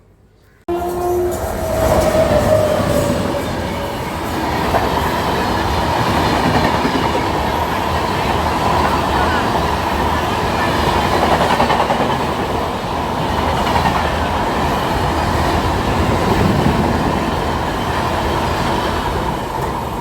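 An AC superfast express passenger train from Chennai Central rumbles along the tracks with continuous clattering and a steady roar, close and loud throughout.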